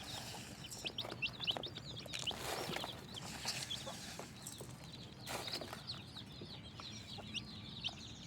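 A hen clucks softly among her seven small chicks, whose high, thin chirps repeat in quick runs over a low rustling background, all fairly faint.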